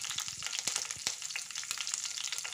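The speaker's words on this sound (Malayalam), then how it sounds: "രണ്ട് മൂന്ന് കറിവേപ്പില ഇട്ട് കൊടുത്തതിന് ശേഷം അതിൻ്റെ മുകളിൽ വെച്ചിട്ടാണ് ഞാൻ സാധാരണ വറുത്തെടുക്കുന്നത്." Mackerel fries on a bed of curry leaves in hot oil, giving a close, bright sizzle peppered with sharp pops and crackles throughout, with no talking.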